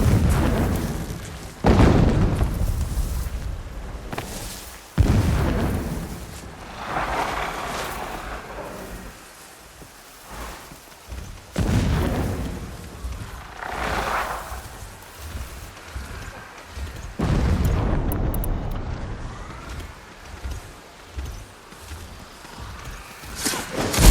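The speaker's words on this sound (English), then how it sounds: "Explosions in the distance." Deep booms roll in from far off in Horizon Zero Dawn, several heavy thuds spaced over gusty wind-like rumble with no talking.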